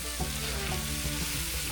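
Flour roux being stirred in a hot pan with pork chop drippings, a steady close sizzle with soft scraping strokes repeating throughout, no voices.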